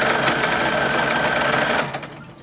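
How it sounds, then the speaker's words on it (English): A sewing machine runs steadily while stitching the hem of a 1920s–1940s style infant nightgown, a continuous close whirring hum that slows and stops near the end. "next step will be putting up the hem, so I've already ironed it. All I have to do is sew it."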